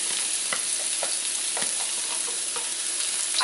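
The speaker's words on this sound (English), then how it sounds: "You can hear it sizzling." Oil sizzles steadily in a hot wok as beef is stir-fried for beef and broccoli, a dense continuous crackle broken by sharp pops and the scrape of stirring, close and alone with no voices.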